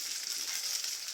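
Garlic sizzling in hot coconut oil alongside shallots for a Kerala chammanthi, a soft, continuous crackling fry heard close but quiet, with no talking.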